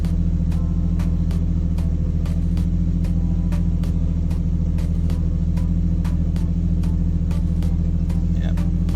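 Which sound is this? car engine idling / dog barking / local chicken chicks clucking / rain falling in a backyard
car engine idling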